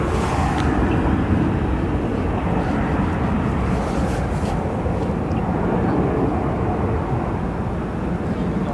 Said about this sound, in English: We'll now give you a view of the Korean 777 on the north side of the airport, arriving in just a few moments.